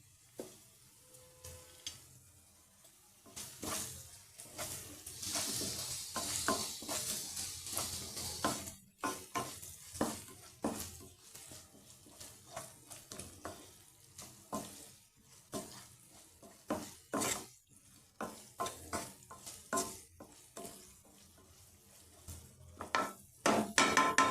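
Onions frying with salt in a pan for a raw prawn curry, crackling sizzle punctuated by frequent scraping and clattering strokes of a spoon against the pan, irregular and close, with no talking.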